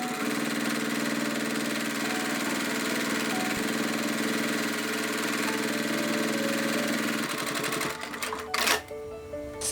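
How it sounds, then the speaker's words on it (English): A sewing machine stitches steadily through a glued strap, a continuous fast mechanical whir that runs alone for about eight seconds before stopping with a few clunks and shifts at the end. "Now I'm sewing where the glue is. So my needle is going to get gummed up"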